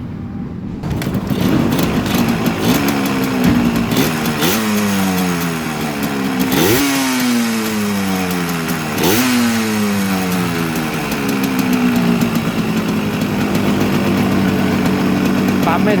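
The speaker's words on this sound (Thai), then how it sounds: "เดี๋ยวเราจะลองติดเครื่องแล้วก็ดู" An old motorcycle engine, being revived after long disuse, starts up and runs with a rough, loud idle and several sharp throttle blips that rise and fall, close by with the engine running throughout.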